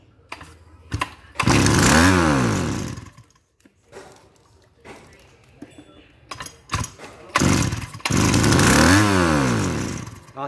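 A Mitsubishi T170 small petrol engine, primed with fuel, roars in two loud close bursts of running revs, with quieter clattering and handling noises in the gap between them.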